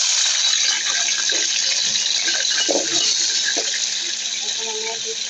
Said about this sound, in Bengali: এখন আমি এর মধ্যে দিয়ে দিব অল্প একটু পানি।